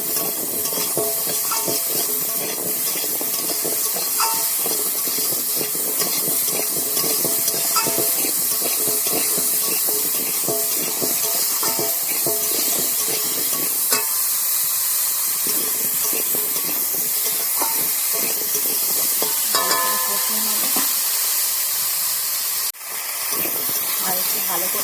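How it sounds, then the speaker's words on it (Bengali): Diced potatoes sauté in a spiced curry in a pan, a continuous close sizzle and hiss with frequent scraping from stirring and a brief sharp knock near the end. "ভালো করে কষিয়ে নেব।"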